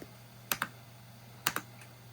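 Keystrokes on the keyboard of a Dell Optiplex GX110 desktop come in two quick pairs of crisp clicks about a second apart, close and clear over a faint steady electrical hum.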